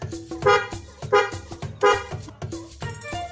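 A car horn is pressed repeatedly at the centre of the steering wheel from inside a car, sounding as a series of short, close honks in an uneven rhythm.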